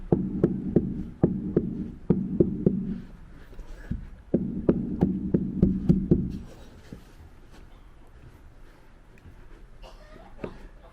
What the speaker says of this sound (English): get the bolster again and just hammer it in without a hammer